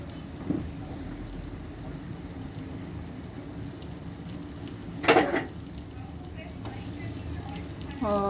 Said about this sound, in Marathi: ही कप बटाट्याची कप फ्राय करून घ्यायची